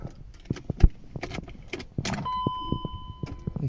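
A BMW E36 with faulty MAF, alternator and display has its key turned and ignition switched on. Keys jangle with a few clicks and knocks, then a steady electric hum and whine come on as the systems power up. No engine catch is heard.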